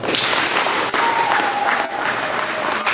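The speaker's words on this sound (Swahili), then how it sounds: "Makofi kwa" An audience at a district party meeting applauds steadily for about three seconds. The sound is a dense, even clapping from a crowd, and no voices are heard over it.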